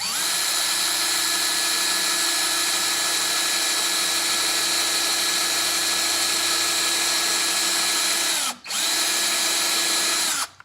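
Power tool spinning a brass lightsaber switch cap against 400-grit sandpaper, a loud steady high whine with a brief drop in the middle before it resumes, close and continuous.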